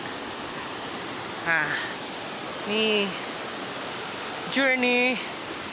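A river rushes steadily beneath a small footbridge on the Annapurna Base Camp trek in Nepal, a loud, constant hiss of flowing water with a person briefly speaking over it.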